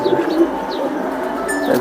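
A silver pigeon with red eyes coos in short, soft repeated phrases close by, with faint chirps from other birds in the background.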